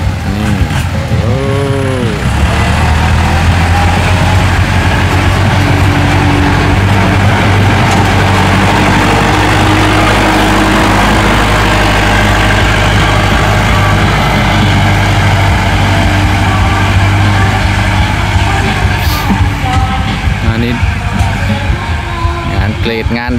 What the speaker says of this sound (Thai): เอาเสียงรถไถกบเอาครับ